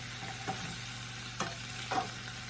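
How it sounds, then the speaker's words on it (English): Diced bacon fries in a pan with a quiet, steady sizzle, broken by a few soft stirring scrapes. "we're gonna keep frying up this bacon"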